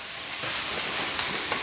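Mixed grill meats fry on a Blackstone griddle, a dense continuous sizzle with crackling pops, close and steady with no talk.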